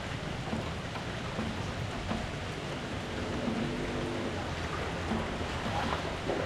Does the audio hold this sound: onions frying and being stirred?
no